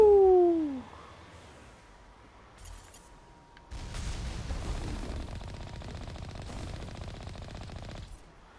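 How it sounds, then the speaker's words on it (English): Rapid gunfire-like bursts of missiles fired in the video game Mass Effect 1, a dense loud barrage starting midway and lasting several seconds after a short whooshing tone and quieter gap. "Who the fuck is shooting missiles?"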